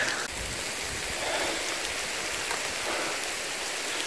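Heavy rain pours down outdoors during a bear-baiting hunting trip, a dense, steady hiss of drops drumming on surfaces, loud and unbroken.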